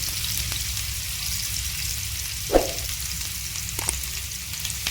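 Chopped onions fry in a pan, a steady close sizzle broken by a couple of brief stirring scrapes and clinks.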